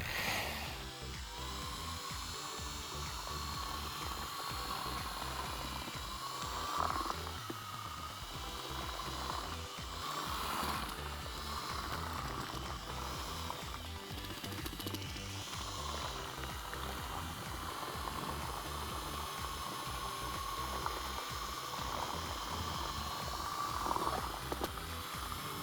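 Concrete resurfacer being mixed to a thin batter consistency for a fill coat. A steady, loud mechanical churning and grinding runs unbroken the whole time, with no talking.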